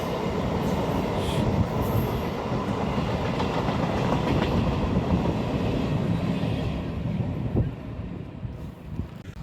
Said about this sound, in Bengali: আপনারা যে ট্রেনটি এখন চলে গেল এটি একটি শিয়ালদা লোকাল ট্রেন